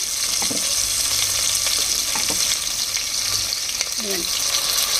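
Onions fry in a pan in a home kitchen, a steady close sizzle with occasional stirring scrapes and faint voice sounds.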